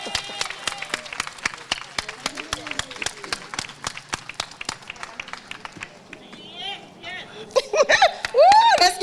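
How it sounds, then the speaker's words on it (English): Scattered applause from a small crowd at a ribbon cutting ceremony, a run of sharp separate claps at a fairly even rhythm, moderately close, with voices rising and cheering toward the end. "let's give them a round of applause"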